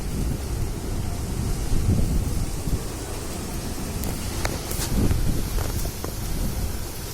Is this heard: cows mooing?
no